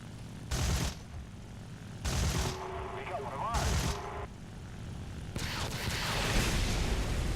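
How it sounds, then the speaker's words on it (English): Aircraft-mounted 23mm cannons in a historical air combat game fire three short, loud bursts, spaced a second or so apart, over a constant engine drone. "Seems my 23mm cannons are not enough to penetrate the"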